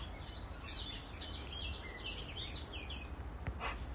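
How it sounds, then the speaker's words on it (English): A crowd of small birds chirps and twitters continuously at a distance, with many overlapping high calls and no clear single voice. "I can hear tons of little birds"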